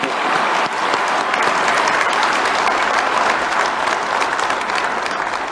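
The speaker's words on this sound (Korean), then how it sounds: "우리 박수 한번 부탁드리겠습니다" Audience applause at a political speech in Korea, honoring business leaders; dense, steady clapping from a large crowd fills the whole stretch at even loudness, with no voices over it.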